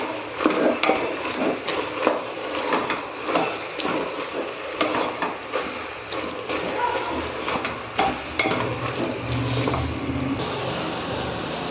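Mutton sautéed with ginger-garlic paste, chili powder and turmeric powder, a continuous close sizzle with frequent scraping stirs and clinks of a spatula against the pan.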